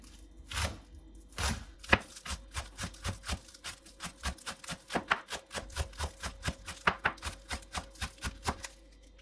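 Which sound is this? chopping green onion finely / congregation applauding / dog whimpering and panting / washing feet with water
chopping green onion finely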